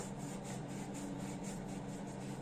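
A soft, steady rubbing hiss as a homemade turmeric and honey face mask is scrubbed over skin, faint and continuous with a gentle pulsing rhythm and no voices.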